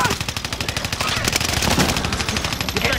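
Rapid automatic gunfire in a battle-royale shooter video game, a dense burst of repeated shots rattling steadily through the whole moment, loud and close.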